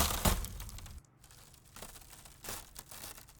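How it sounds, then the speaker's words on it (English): Small glass debris from a sound effects library, a close, busy scatter of crinkling, crunching fragments with a few brighter tinkling bursts and a brief lull in between. "Smaller glass sort of debris."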